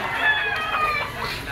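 Chickens and roosters at a poultry auction market in Lipa, Batangas, clucking and calling close by in a busy overlapping chorus, with people talking faintly underneath.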